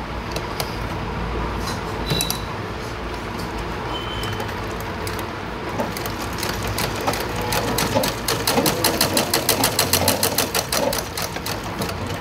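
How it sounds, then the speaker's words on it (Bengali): A sewing machine runs steadily through fabric, stitching back over the same seam two or three times, its rapid needle clatter continuous and close, growing busier and more rhythmic toward the end, with no talking. "এভাবে ডবল সেলাই দিয়ে দেবো, 2-3বার করে এই জায়গাটা সেলাই করে দিলে সেলাইটা খুলবে না।"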